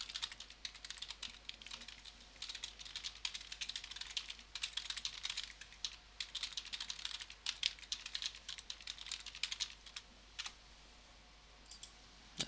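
Keys on a computer keyboard clatter in quick bursts of soft clicks, quiet and close, with short pauses between runs of typing and no voices.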